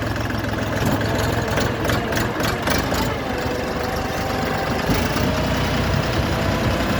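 A diesel Orion RF244 tractor engine idles steadily nearby, a low continuous rumble with a faint rattle and no voices.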